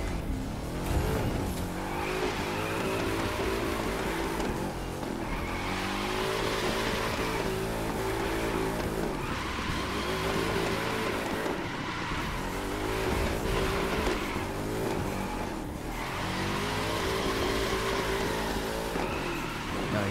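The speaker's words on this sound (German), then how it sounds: "Okay, wir driften eine Runde mit dem Mustang GT." Ford Mustang GT drifting in The Crew 2, its V8 engine cycling up and down in repeated surges while tires squeal through long slides, loud and continuous with no talk.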